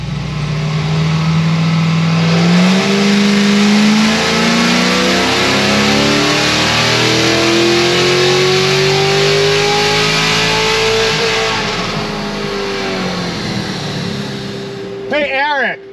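A C7 Corvette Z06 on a dynamometer revs hard and loud, engine pitch climbing steadily through a long sustained pull for about twelve seconds before backing off, with a brief sharp burst of noise at the very end.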